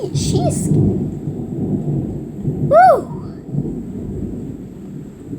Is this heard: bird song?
no